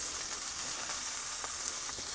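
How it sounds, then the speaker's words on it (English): A beef roast sears in a hot pan ahead of slow cooking in a crock pot. A steady, fine sizzle runs the whole time, with a few faint crackles and pops rising out of it. "I'm not trying to cook the roast at all. I'm just trying to get the outside seared off for a little extra flavor"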